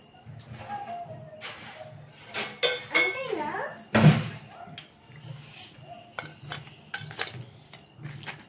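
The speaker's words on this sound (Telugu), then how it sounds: "ఇప్పుడు మనం దీన్ని సర్వింగ్ ప్లేట్లోకి వేసుకుందాం గోబీని" Fried gobi is served onto a serving plate with scattered clinks and scrapes of utensils against dishware, one sharper knock standing out midway, while a person talks over the sounds.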